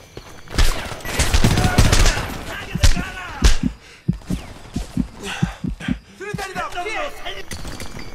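Heavy gunfire in the war shooter Homefront: rapid automatic bursts and single loud shots, close and dense at first, then spaced cracks, mixed with shouting voices and battle noise.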